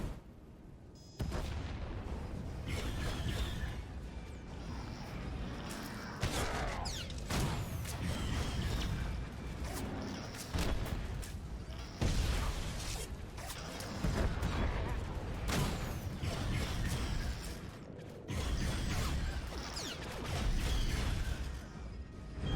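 Missiles launch and explode in a Star Wars: The Old Republic battle, with repeated booming blasts and whooshing bursts over a continuous rumbling combat background.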